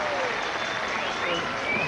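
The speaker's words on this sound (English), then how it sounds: "Give him some applause." Crowd applause for a contestant at an outdoor 1982 team games event between Chippenham, Gloucester and Ross-on-Wye, a broad wash of clapping heard under a commentator's excited voice, with faint whistle-like tones drifting through.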